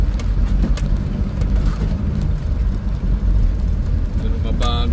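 A Volvo car travels a road in Zambales, its engine and tyre noise making a continuous deep rumble with small bumps and knocks, while a voice talks over the drive.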